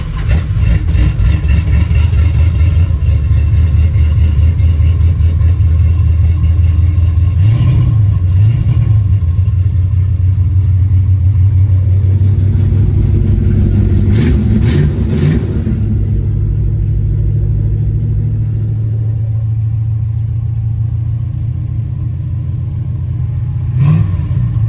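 A 1963 Chevrolet C10 short bed pickup engine starts up and settles into a loud, steady rumbling idle, with a few brief throttle blips along the way; no talking.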